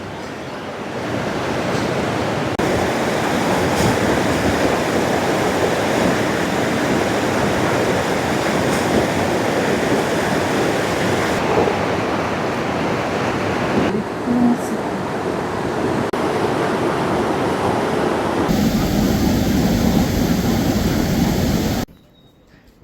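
Fast-flowing Lakshman Ganga mountain river, swollen with glacier melt, roaring as a loud, continuous broadband rush close to the microphone, with wind buffeting in places and a sudden cutoff at the end.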